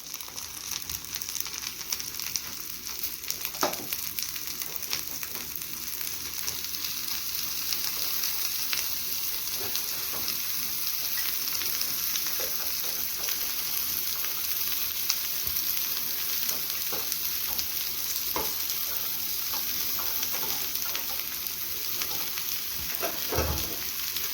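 Ladyfinger (okra) and egg roast with coconut fries in a pan. A continuous close sizzle runs throughout, with occasional sharp scrapes and clicks from stirring, and no talk.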